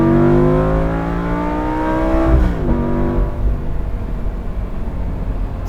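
A Lamborghini Gallardo Spyder with the e-gear transmission holds a loud engine drone, then makes a quick downshift blip as it rev-matches before settling into a rougher, lower rumble, close and with no talking.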